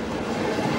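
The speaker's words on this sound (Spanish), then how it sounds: "Cerca de Burgos, dos trenes se cruzan en la noche." Two trains pass each other at night near Burgos, Spain, producing a steady, loud rumbling roar of rolling wheels and carriages, close by and continuous through the brief moment.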